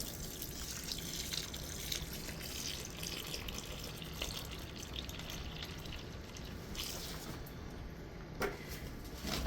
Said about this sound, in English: Let me pour some water in there.